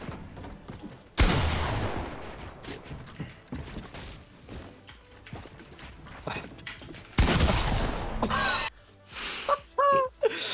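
Loud bursts of gunfire from an online shooter game, Overwatch 2 or Fortnite, crack out in two heavy volleys a few seconds apart, with scattered smaller shots, clicks and a player's gasps and brief exclamations near the end.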